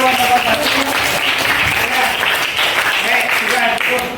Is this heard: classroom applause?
yes